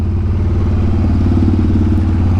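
A 2015 Harley-Davidson Dyna Street Bob FXDB motorcycle engine rumbles with a loud, steady, low throbbing pulse that holds constant throughout, heard close up with no talking.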